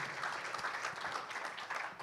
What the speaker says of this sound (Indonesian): tepuk tangan dulu yang kuat buat Tuhan kita yang baik